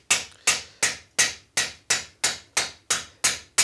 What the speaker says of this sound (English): And then you strike with the flat face of the hammer